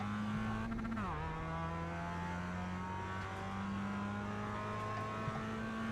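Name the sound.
Mazda MX-5 Cup car accelerating at Laguna Seca in iRacing video game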